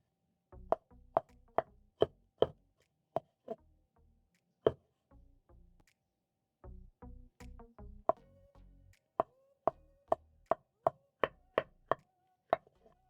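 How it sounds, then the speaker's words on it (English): A knife thinly slices red and green capsicum on a board, giving crisp, close, irregular chopping taps in a quiet room, with a short pause midway before quick strokes resume. "Then I'm going to thinly slice."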